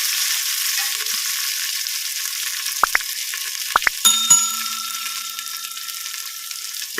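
Steady hissing sizzle of shallots frying in hot oil, with a few quick utensil clinks against the pan partway through.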